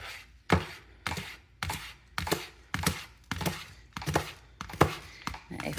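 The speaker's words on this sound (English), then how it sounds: "we're just going to take 2 green onions and just slice those up really fine" A knife slices two green onions finely on a cutting board, with about ten crisp, evenly paced chops landing close and loud over roughly six seconds, without speech.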